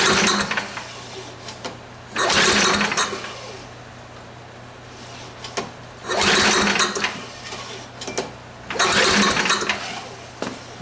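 John Deere lawn tractor engine cranking with the choke pulled, three separate loud bursts of starter grinding, each about a second long, separated by quieter pauses, and it never catches.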